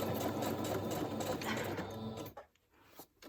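A sewing machine stitches around a paper envelope in a fast, even whir that runs loud and close for about two seconds, then stops, leaving near silence with a few faint clicks.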